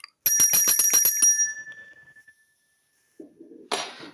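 A hand bell from a collection of bells rings in a quick series of about seven bright, loud strikes, its metallic tone ringing on and fading, followed by silence and then faint handling noises.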